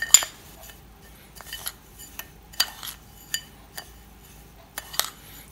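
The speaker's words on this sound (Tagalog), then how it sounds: "Lagyan na po natin ito ng asukal. Haluin po natin mabuti." A utensil stirs toasted sesame seeds with sugar in a bowl or pan, giving scattered sharp clinks and scrapes about once a second, close and fairly soft, with no talk.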